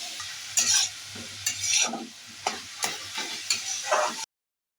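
A spoon stirs a radish and green pea curry seasoned with salt and sugar in a pan, scraping in a rhythmic series of strokes over a soft sizzle, close and clear, then stopping abruptly.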